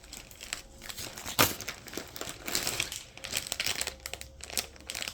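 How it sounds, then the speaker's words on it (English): Gifts pulled from one big bag crackle and crinkle in their wrapping, close and busy with bursts of rustling and tearing-like crunches throughout, no voices. "I gotta unwrap them to wrap them."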